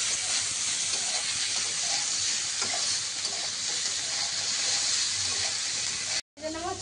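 Cashews and raisins frying in a pan at home: a loud, steady sizzle and hiss close up that holds for several seconds, then cuts off briefly before a short burst of other sound.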